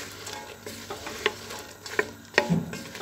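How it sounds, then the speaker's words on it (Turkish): Hot peppers being sautéed in a pot, giving a steady close sizzle broken by a few sharp scraping knocks as a utensil stirs them. "Bu arada biberlerimi de koydum. 3-5 dakika kavuracağım."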